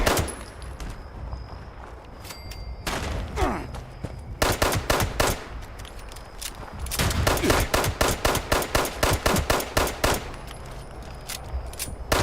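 Gunfire in Fallout 76 comes in bursts, with single cracks followed by long rapid automatic volleys and short pauses between them, loud and close.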